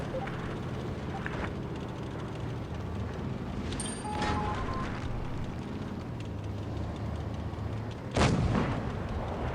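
ISU-152 tank cannon fire in World of Tanks Blitz, with heavy booming shots over a constant low engine rumble, one near the middle and a louder blast near the end.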